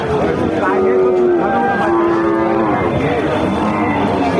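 Red Sindhi heifer calves at a busy cattle market give several loud, drawn-out moos close by, over a dense crowd hum and a motor-like drone.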